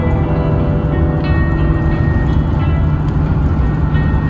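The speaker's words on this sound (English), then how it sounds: "Got a train coming by!" A loud, steady rumble of a train rolling past nearby, with continuous mechanical clatter and hum throughout.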